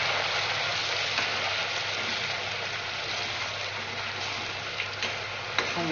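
Masala paste frying in oil with hing and a bay leaf for a spicy red vegetable curry: a dense, even sizzle held at steady loudness, with a couple of faint clicks near the end and no talking.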